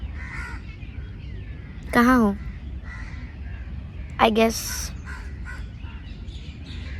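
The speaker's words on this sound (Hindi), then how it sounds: "हमको दिखा कुछ कौवे अपनी तशरीफ़ लेके मेरे ऊपर ही बैठे हैं।" Two loud, harsh crow caws ring out close by at a park lunch spot in Delhi's Deer Park, each a short burst a couple of seconds apart, with a person speaking briefly between them.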